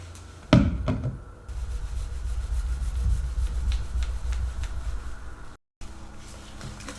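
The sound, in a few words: scraping sunroof residue off car roof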